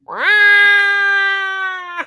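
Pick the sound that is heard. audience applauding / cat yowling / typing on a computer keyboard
cat yowling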